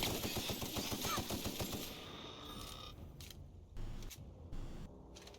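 A quick burst of rapid-fire shots in The Outer Worlds, a dense rattle over the first two seconds, then scattered softer clicks and thumps against a quiet background.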